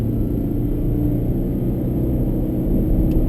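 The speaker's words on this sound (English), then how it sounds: "noise you can hear there, is the fan from the air conditioner." A steady low whirring air conditioner fan drone inside a new Toyota Prius, constant and unchanging, close by with no other sounds.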